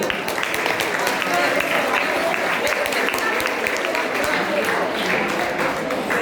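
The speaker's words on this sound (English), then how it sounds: "Now let us give a big round of applause for all our artists today." An audience at the SNBP school's Class 10 English skit competition gives the student performers a big round of applause. Dense, continuous clapping lasts about six seconds, with voices mixed into the crowd noise.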